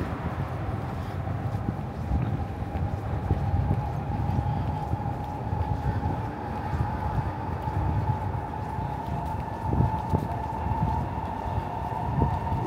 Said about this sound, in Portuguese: O barulho do trem bala pro trem normal, dá pra saber.